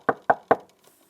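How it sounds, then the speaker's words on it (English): Three sharp, evenly spaced knocks on a wooden door, close and distinct, followed by quiet. "He knocked on the door."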